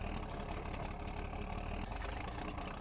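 A Fiat Agri tractor engine idles steadily in the Farming Simulator game, a continuous mid-to-low rumble held at an even level throughout.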